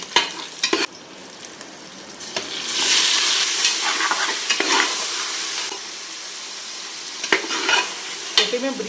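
Tomatoes frying with onions in a pot for mutton biryani, stirred with a spoon: scraping clatters at the start, then a loud surging sizzle that settles into steady frying with more scrapes near the end.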